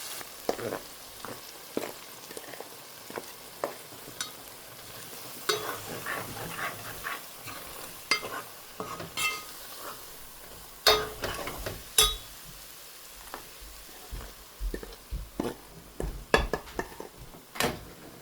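Spiced fenugreek stuffing for stuffed bitter gourd being stirred with added flour in a pan, heard as irregular spoon scrapes and soft knocks over a faint sizzle, quiet and close, without speech.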